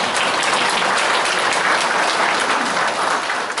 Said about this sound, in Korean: 한 박수 한번 쳐주세요.